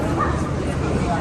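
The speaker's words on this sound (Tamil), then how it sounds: "என்னடா இங்கே நாய் சத்தம் கேட்குது" A dog barks and yips amid a noisy, crowded downtown street in Baku, Azerbaijan, with people talking nearby.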